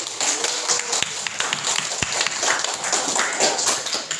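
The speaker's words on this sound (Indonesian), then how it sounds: "Berikan tepuk tangan." Students clap in a classroom at the end of a lesson, a steady busy patter with a couple of sharp louder claps, heard alone.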